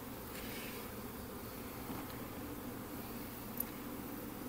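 Honeybees and virgin queen bees, kept in hair-curler cages, hum in a steady, dense buzz that stays even and close throughout, with no voices.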